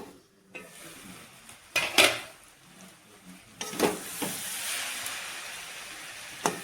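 A metal lid comes off a pot of simmering bottle gourd and potato, with sharp clanks and scrapes against the rim over a soft background hiss.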